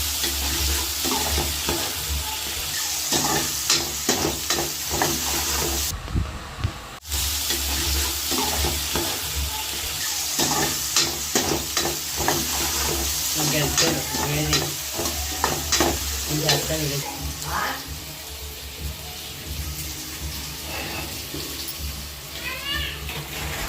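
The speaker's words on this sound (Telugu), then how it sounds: "ముందుగా కట్ చేసుకున్న ఆనియన్స్ పచ్చిమిర్చి టమాటా ముక్కలను వేసుకొని కాసేపు మగ్గనివ్వాలి." Chopped onions, green chillies and tomatoes sizzle steadily in a pan over a medium flame while a spoon stirs and scrapes through them, with a short pause midway.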